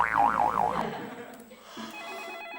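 A telephone rings with a warbling, looping electronic tone that stops abruptly, followed by faint movement and a quiet voice.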